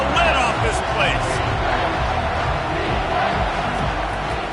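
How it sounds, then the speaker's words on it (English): A stadium crowd roars continuously at a football game in Undisputed, a dense, loud wall of cheering with scattered shouts, under commentator speech. "this crowd is tearing the lid off this place"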